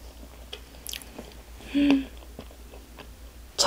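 Someone bites into soft cream-filled convenience-store bread and chews, giving a few quiet moist squishes and soft mouth sounds, up close, with a brief louder squish near the middle and no talking.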